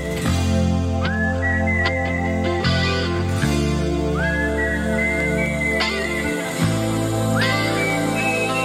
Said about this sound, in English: I've never had a whistle feel so heavy.